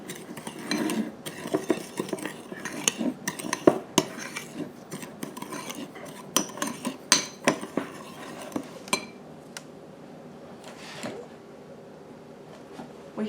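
Sugar being mixed by hand into Korean cucumber pickle ingredients in a bowl: a steady run of close utensil clinks and scrapes against dishware, irregular and fairly busy, quieting toward the end, with no voices.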